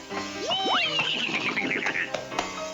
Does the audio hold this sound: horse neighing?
yes